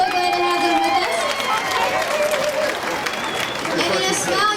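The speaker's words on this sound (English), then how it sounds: "Let's give them a round of applause one more time." Crowd applause and cheering from the audience at a live Opry Night country music show at the Big Texan Steak Ranch, a steady, fairly loud wash of clapping with some voices and talk mixed in.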